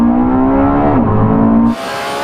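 A Lamborghini Revuelto screams loudly at high revs, pitch climbing then shifting as it upshifts, before cutting to a rougher, broadband roar.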